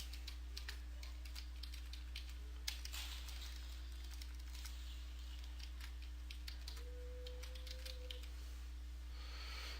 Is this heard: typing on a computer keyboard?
yes